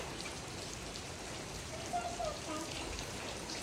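Rain falls all day in a steady, even hiss of drops on surfaces, continuous and moderately quiet with no clear voices.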